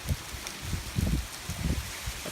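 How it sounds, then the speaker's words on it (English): Gusty outdoor wind buffets the microphone in uneven low rushes and swells, with a faint rustle in between, on an autumn day beside a Dodge Dakota Quad Cab pickup. "Of course, now the wind picks up."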